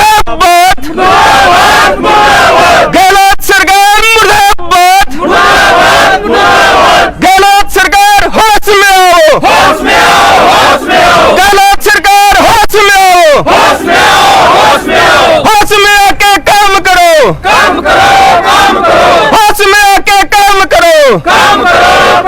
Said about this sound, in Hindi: सारे जोर करके बोलेंगे, गहलोत सरकार मुर्दाबाद, गहलोत सरकार मुर्दाबाद।